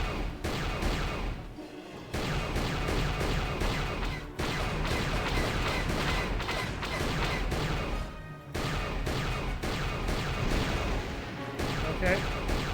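Turret gunfire in Star Wars Knights of the Old Republic, dense continuous blasting and booming with two brief gaps, loud and close, with a voice talking faintly underneath.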